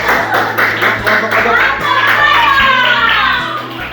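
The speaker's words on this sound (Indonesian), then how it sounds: "Ya, tepuk tangan buat kelompoknya." A classroom of children clapping together for a group, steady dense applause mixed with kids' chatter and shouts, loud and close.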